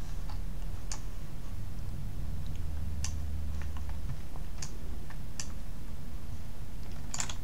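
A computer keyboard is tapped with a few scattered, sharp keystrokes over a steady low hum while a value is entered into CAD modelling software, no speech.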